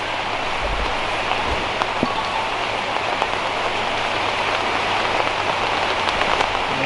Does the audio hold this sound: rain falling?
yes